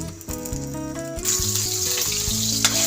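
Egg sizzling and crackling in hot oil in a pan for fried rice, a steady close frying hiss that brightens midway with some clinks of utensils.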